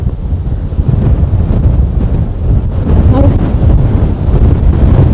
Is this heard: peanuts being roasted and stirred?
no